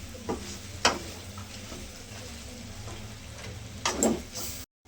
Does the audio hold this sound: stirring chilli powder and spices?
yes